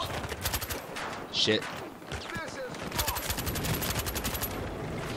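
Rapid heavy-recoil gunfire in Battlefield Hardline multiplayer on Xbox One, sounding as a loud burst of shots and a sustained stretch of dense firing, with a voice briefly speaking over the action.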